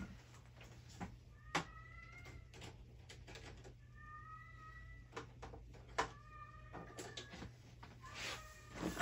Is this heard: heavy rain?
no